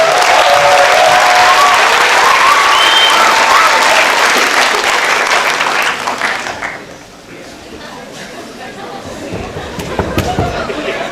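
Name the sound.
audience clapping for guests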